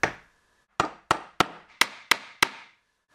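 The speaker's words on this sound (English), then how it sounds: "we are using wooden dowels, which need to be hammered into position" Wooden dowels are hammered into position in a workshop: seven sharp, woody knocks, one alone, then six in a quick uneven run, each close and crisp with a short decay.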